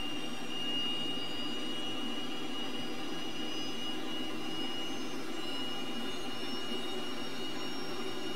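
A T-37 jet aircraft's engine holds a loud, steady whine and roar as power increases and RPM rises, a continuous drone with high tonal whistles and no speech.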